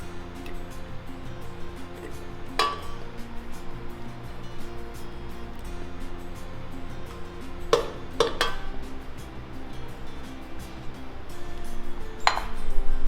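Metal utensils clink and scrape in a bowl while butter and sugar are mixed for soft-baked cookie dough, with a few sharp pings among the steady stirring, close by and without talking.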